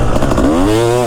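A two-stroke Kawasaki KX250 dirt bike engine, very close and loud, with a rough buzzing start that climbs into a rising, ringing rev.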